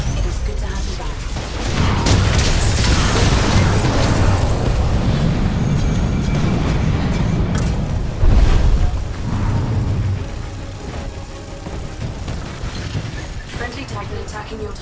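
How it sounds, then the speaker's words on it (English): A Titan's plasma railgun in Titanfall discharges amid a heavy firefight, producing loud sustained booming blasts and rumbling impacts that swell and fade over several seconds, with one sharper burst near the end. "Plasma railgun charged"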